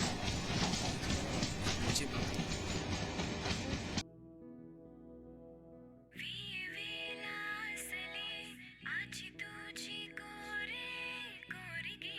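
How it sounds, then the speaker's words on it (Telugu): A loud, steady train rumble fills the first few seconds, then cuts to quieter tonal, music-like sounds. "ట్రైన్ వస్తుంది"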